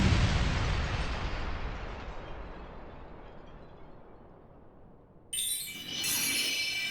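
A big explosion in the video game Princess Peach: Showtime!, loud from the start with a long rumbling decay. A bright sparkling chime burst follows near the end.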